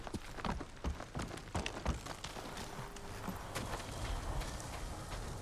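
Horse hooves clip-clopping in the video game Ghost of Tsushima, an irregular series of close thuds that settles into a softer, steadier patter.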